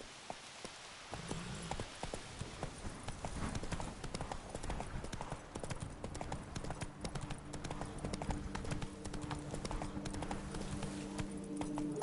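In The Witcher 3: Blood and Wine, Roach the horse trots with steady, even hoof clops that start after a second and continue throughout, mixed with ambient game music.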